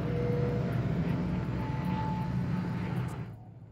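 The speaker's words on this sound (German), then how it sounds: "Das ist die Drohne." A combat drone from Cyberpunk 2077 flies past with a droning engine hum and steady tonal whine, holding loud for about three seconds before fading away at the end.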